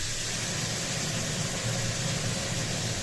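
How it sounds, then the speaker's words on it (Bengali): A kitchen chimney exhaust hood runs as a steady, fairly loud broadband whir and hiss while chicken fries in a pan beneath it, constant throughout with no talk. "চিমনিটা অন করে নিলাম।"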